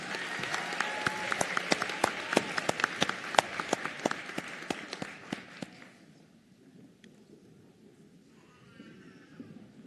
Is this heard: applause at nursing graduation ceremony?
yes